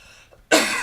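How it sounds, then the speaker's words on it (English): A single sharp, close cough bursts out from a person chatting in a fursuit after a furry convention, abrupt and loud after a quiet moment. "Why am I coughing?"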